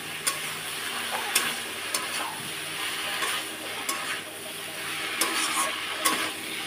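Potato and bitter gourd are stirred into lote fish masala in a hot pan, with a soft steady sizzle and periodic scraping stir strokes, close and moderately quiet.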